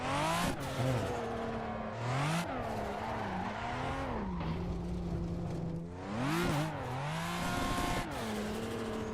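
A 2.5-liter five-cylinder car engine revs hard several times, its loud growl climbing and falling in pitch between bursts, up close with no talking.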